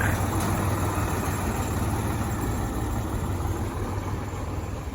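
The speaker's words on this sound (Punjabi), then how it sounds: "ਚਾਚੇ ਦਾ ਮੁੰਡਾ ਟਰੈਕਟਰ ਲੈ ਕੇ ਆ ਰਿਹਾ ਗਲੀ ਦੇ ਵਿੱਚ" A Powertrac tractor engine idles in a village lane with a steady, low rumble, close and loud, with a constant droning hum and no talking.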